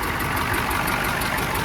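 A Ford turbo diesel truck engine runs on its own, with a steady, close, rough idle clatter and rhythmic ticking over a low rumble, continuous and without talk.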